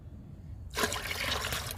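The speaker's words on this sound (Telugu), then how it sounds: "ఈరోజు ఈ మూడు మొక్కలకి లిక్విడ్ ఇస్తున్నాను" Liquid plant tonic is poured onto three wilting, dying potted plants. After a quiet start, a sudden, steady splashing rush of liquid begins and continues to the end.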